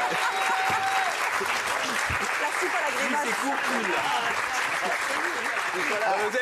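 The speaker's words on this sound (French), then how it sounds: "Vous avez pas besoin d'applaudir" A comedy show audience gives sustained, dense applause at a steady level throughout, with a voice speaking briefly over the clapping.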